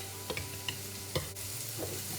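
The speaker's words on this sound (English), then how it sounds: "And then I mix it up really good" Orange marmalade sauce stirred by hand in a bowl, a few soft scraping and clinking strokes at close range with no talk.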